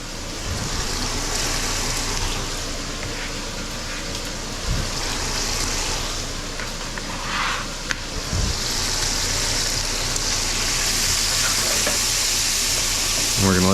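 Onions sizzling with bacon in a pot for a one-pot braised chicken with cabbage and potatoes, a steady loud close hiss of frying with occasional stirring scrapes.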